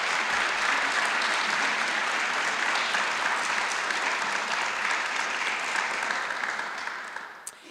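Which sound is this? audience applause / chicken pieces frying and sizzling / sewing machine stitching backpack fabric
audience applause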